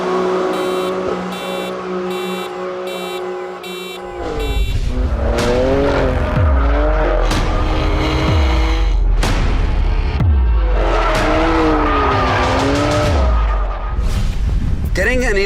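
A BMW M4 GTS engine idles, then roars as it revs hard through several gears, the exhaust growling and popping loudly up close.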